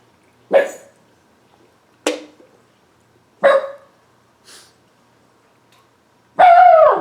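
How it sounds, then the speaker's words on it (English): A dog barks in the background: several sharp, separate barks spaced a second or more apart, ending in a longer, drawn-out whining yelp. No talk. "And that's my dog in the background."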